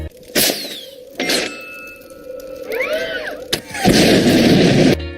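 Loud explosion effects from the Iron Man film, several sharp bursts with metallic clangs and ringing tones, ending in a dense, sustained roar of debris near the end.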